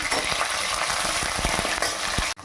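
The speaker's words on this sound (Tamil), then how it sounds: "ஒரே ஒரு பெரிய வெங்காயம், கொஞ்சமாக கருவேப்பிலை, இதெல்லாம் போட்டு நல்லா வதக்கிக்கலாம்." Chopped onion and curry leaves sautéing in hot oil with popped mustard seeds for a Tamil chicken curry, a loud, steady, close sizzle with a few soft spoon scrapes, no talking.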